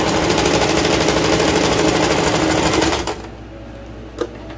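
Domestic sewing machine runs steadily at speed, stitching the shirred waistband of a romper being cut down into shorts, a loud continuous rapid needle chatter that stops abruptly near the end, leaving a quiet room with one small knock.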